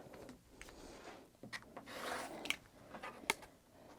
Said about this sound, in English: So I'm going to trim these into 8 1/2 inch squares.